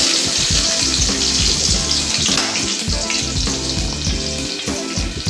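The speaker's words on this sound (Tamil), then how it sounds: "தட்டி வச்ச பூண்டு சேர்த்துக்கோங்க" Crushed garlic and mustard seeds fry hard in hot oil for a potato fry, a loud, dense, continuous sizzle crackling close up from start to finish.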